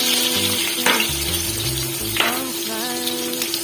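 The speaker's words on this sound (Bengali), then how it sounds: "কড়াইতে তেল দিয়ে আলুগুলিকে ভেজে নেব" Potatoes fry in oil in a wok for a chicken curry, a steady close sizzle running throughout with a couple of sharp clinks of a utensil against the pan and faint tonal music underneath.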